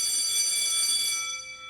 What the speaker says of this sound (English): The class bell rings, disrupting the moment and snapping everyone back to reality.